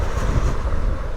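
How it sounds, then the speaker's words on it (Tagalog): Typhoon Pepito winds in the Bicol Region roar and buffet the microphone in a loud, continuous rush with no voices. "hangin ang maririnig nyo doon. Puro hangin."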